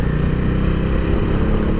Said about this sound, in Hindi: डोमिनार कंफर्टेबल बाइक है